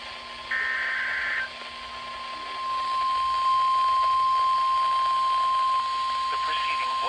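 NOAA Weather Radio emergency alert test tone: a steady, loud single-pitch tone sounds continuously across the clip, with a brief higher beep near the start and a broadcast voice talking over it.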